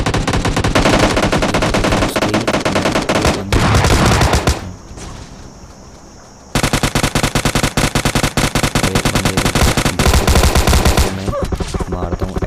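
Gunfire from the PUBG Lite video game, including an S686 shotgun, comes as loud, rapid bursts of shots with a brief lull in the middle before the firing resumes.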